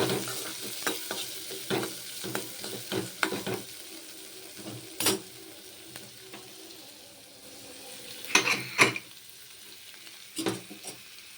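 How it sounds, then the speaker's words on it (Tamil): Mustard seeds, curry leaves and onion sauté in oil in a kadai, giving a soft steady sizzle. Sharp stirring scrapes and clinks break in at irregular moments, and there is no talking. "கடுகு கருவேப்பிலை வெங்காயம் போட்டு வதக்கிக்கோங்க"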